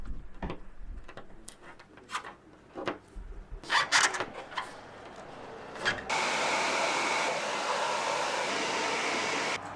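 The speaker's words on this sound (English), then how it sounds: "it really helps to get a bit of heat into this leftover glue" A heat gun or hair dryer warms leftover spoiler glue on an Audi A3/S3/RS3, starting after several seconds of scattered clicks and handling noises, then blowing as a steady loud whoosh to the end.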